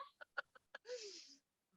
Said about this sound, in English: she's got a chicken